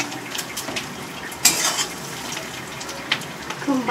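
Pakoras frying in a pan give a steady, close sizzle, with a few sharp clinks of a utensil stirring and scraping against the cookware.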